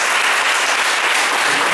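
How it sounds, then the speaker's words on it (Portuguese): Loud, sustained clapping fills a church as the congregation applauds for Jesus, an even roar of many hands with no pauses. "vamos dar um aplauso mais forte, bem forte para Jesus"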